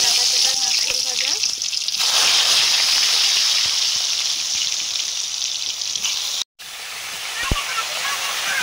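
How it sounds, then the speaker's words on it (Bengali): Round teasel gourd slices fry in oil in a wok, giving a loud, steady sizzling hiss that runs almost unbroken, with a brief cut near the end and faint speech mixed in. "প্রথমে করছি কাঁকরোল ভাজা"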